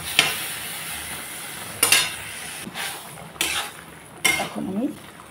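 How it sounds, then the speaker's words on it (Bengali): Okra, tomato and potato coated in mustard paste are stirred in a pan: four or five distinct spatula scrapes and clanks against the metal, spaced a second or so apart, over a low, steady sizzle. "ভেন্ডি, টমেটো, আলু সব ভাজা ভাজা হয়ে গেছে।"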